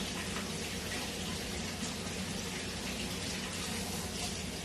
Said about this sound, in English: And they said leave the cold water running.